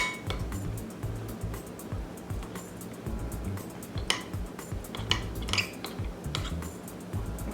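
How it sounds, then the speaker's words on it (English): Beef and broccoli sauce being mixed in a bowl, a utensil clinking and scraping steadily against the bowl in quick repeated taps, close and fairly quiet, with no talking. "mix that cornstarch fast because it sticks to the bottom of the bowl"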